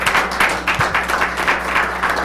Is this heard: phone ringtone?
no